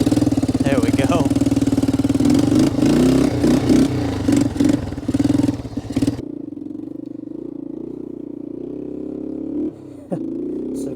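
An old three-wheeler motorcycle engine running on stale gas idles loud and close with a rough, thumping rumble for several seconds, then cuts to a lower, quieter running sound with a brief rev near the end.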